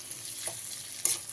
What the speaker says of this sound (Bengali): টমেটোটা দিয়ে একটু নাড়াচাড়া করে নিয়ে তার মধ্যে দিয়ে দিলাম অল্প পরিমাণে লবণ